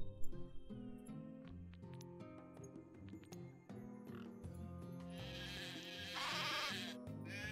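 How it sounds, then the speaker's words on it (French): Sheep bleat in the video game Craft The World, a short bleat rising over steady background game music and small clinking sounds. "J'en ai plein là des moutons."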